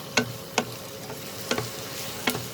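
Chopped onions sauté in a pan for bhindi masala, a steady low sizzle broken by four sharp scraping strokes of a spatula spaced roughly half a second apart, with no talk.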